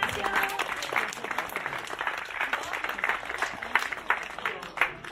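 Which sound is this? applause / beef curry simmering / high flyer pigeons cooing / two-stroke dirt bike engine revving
applause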